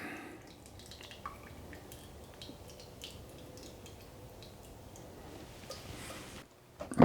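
Water drains from a lifted bucket on a gravity slip pump, a soft steady trickle with scattered small drips, fairly faint and close, no voices, ending with a brief louder knock.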